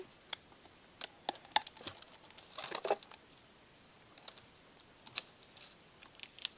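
Packaging around a set of eight tape rolls is opened by hand, producing faint scattered clicks and taps with a brief rustling crinkle of plastic partway through, close and quiet.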